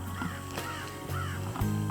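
A crow caws outdoors in several harsh, spaced calls over a low steady hum, fairly close and moderately loud, with no speech.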